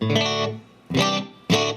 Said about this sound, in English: Alright, so that's just the dry signal.